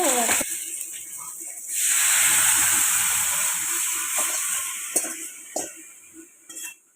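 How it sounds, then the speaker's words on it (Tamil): Mustard seeds, green chilies and curry leaves hit hot oil while tempering for mutton rasam, a loud sustained sizzle and hiss building after a brief clink of utensils, with occasional taps and stirring knocks toward the end. "தாளிச்சுக்குவோம் கொஞ்சோண்டு கடுகு ஒரு மூணு பச்சை மிளகா கொஞ்சோண்டு கருவேப்பிலை அவ்வளோதான் வதக்கி விட்டு"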